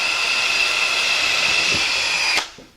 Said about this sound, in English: you're going to drill about a ½ inch out